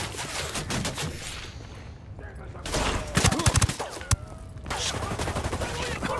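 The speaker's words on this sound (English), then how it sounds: "Opening fire." Gunfire in a Ghost Recon Wildlands firefight, bursts of loud shots and rapid volleys clustered in the middle, mixed with game noise and a voice talking.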